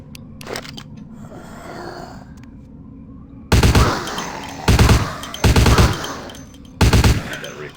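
Heavy-recoil gunfire in Vampire The Masquerade Bloodlines: four loud, booming shots spaced about a second apart, following a quieter stretch with a few faint clicks and rustles.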